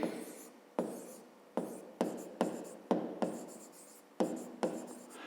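A pen scratches across paper in a run of short strokes, each starting with a quick tap and trailing off, close and quiet with no talking.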